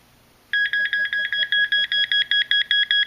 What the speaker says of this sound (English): Speakers in the back here on the macro.